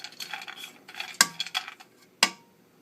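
A utensil stirs spices and vermicelli frying in butter in a pan, scraping and clattering in short close strokes, with two sharp metallic knocks against the pan amid a faint sizzle.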